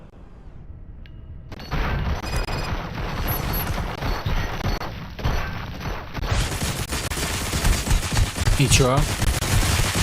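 Rapid automatic gunfire in RoboCop: Rogue City erupts after a quiet start, sustained loud bursts and booms with a whizzing effect near the end, while someone speaks briefly over it.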